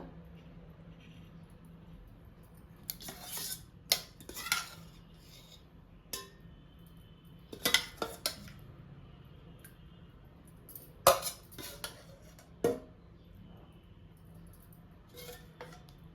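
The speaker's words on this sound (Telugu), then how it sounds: "ఇప్పుడు ఈ మిశ్రమాన్నంతా సమానంగా కలిపేసుకోవాలి." Curd rice (daddojanam) made with creamy curd is mixed with a spoon, making scattered light clinks and scrapes against the vessel over a quiet background, in irregular bursts.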